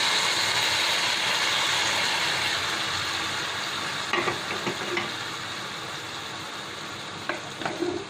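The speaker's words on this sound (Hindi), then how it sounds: "ये ग्रेवी को जो है हम इस सब्जी में डाल देते हैं" Gravy poured into a pan of frying aloo gobi gives a steady, close sizzle with a few soft stirring clatters near the end.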